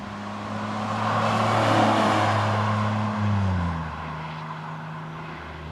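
A Mazda MX5 fitted with a Jaguar V6 engine drives past, its steady, droning exhaust note holding, then dipping in pitch partway through as the revs ease off. No voices.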